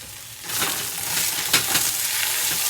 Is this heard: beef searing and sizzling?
yes